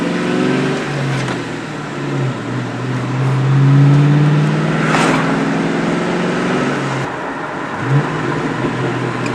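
Ford Mustang GT (New Edge generation) driving along, its steady engine drone and road rumble filling the cabin, swelling slightly mid-way with mild revving.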